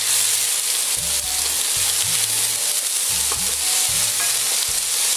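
Tomatoes dropped into a pan of frying onions, giving a loud, steady sizzling hiss, with a low rhythmic mechanical hum repeating underneath and no talking.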